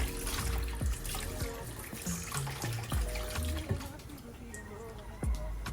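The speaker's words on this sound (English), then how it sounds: "I've just finished washing my eggs now, so I'm going to dry it" Tap water runs into a kitchen sink as eggs are rinsed, a steady splashing wash with small knocks and clunks, fairly quiet and close, with a voice speaking over it.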